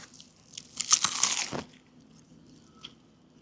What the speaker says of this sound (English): I wanted you to hear that crunch.